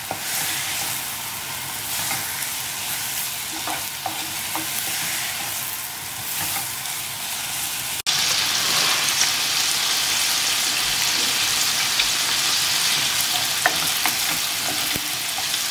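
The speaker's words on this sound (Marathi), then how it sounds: "आता आमी ऑनियन सॉटे करूया." Onions sauté in a pan with a little salt, a loud continuous close sizzle with soft stirring scrapes throughout and a brief jump in loudness partway.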